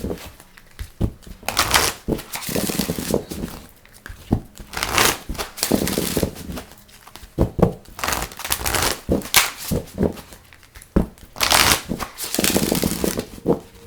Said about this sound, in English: I'm going to go ahead and shuffle this deck and put it on the side